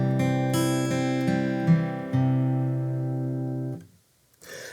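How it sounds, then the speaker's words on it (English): A guitar chord cross-picked one string at a time in a steady rolling pattern, notes overlapping, then ringing out and fading to silence. "Cross-picking is when you pick the individual notes."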